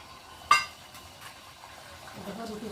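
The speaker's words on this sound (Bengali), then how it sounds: "আর ডিমটা এখন আমি তেলের মধ্যে দিয়ে দেবো।" Beaten egg hitting hot oil in a home kitchen: a sharp clink of pan or utensil, then a quiet, growing sizzle of frying toward the end, all faint and close.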